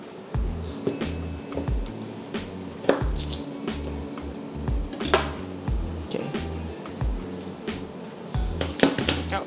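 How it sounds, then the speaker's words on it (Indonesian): Garlic cloves are crushed flat with a blade on a kitchen board while a home salad is made, giving a series of close, dull thumps and squishes with scattered clinks of utensils. "So yeah, 4 bawang sudah gue geprek."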